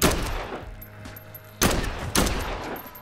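Gunfire in the zombie video game Dead Island 2: a loud opening shot, then two more sharp blasts about half a second apart, each ringing out briefly with a little game ambience between them.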